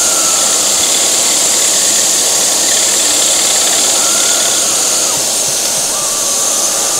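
Steady, loud whirring drone of a saw cutting waste out of the centre of a carved weave-effect wooden coaster, continuous and unbroken with no talk.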